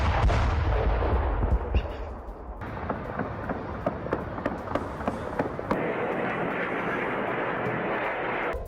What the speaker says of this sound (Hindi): तो रिहायशी इलाकों में मिसाइलें गिरी हैं,